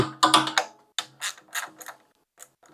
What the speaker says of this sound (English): Looks like all I need to remove the air filter housing is a 10mm socket.